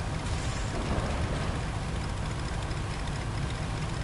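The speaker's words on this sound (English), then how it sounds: "Just hear the proper diesel engine, can't you?" A heavy vehicle's diesel engine drones steadily in the RoadCraft video game, a low continuous rumble with a broad noisy wash on top and no voices.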